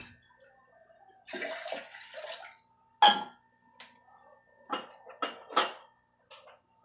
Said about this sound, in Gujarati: 3 ગ્લાસ પાણી આપણે નાખી દઈશું